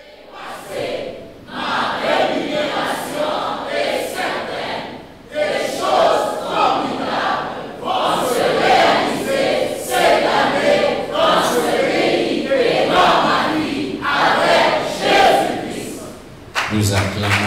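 A French-speaking church congregation loudly acclaims the Lord, many voices crying out together in dense, sustained bursts with a short lull early on and a sharp change at the very end.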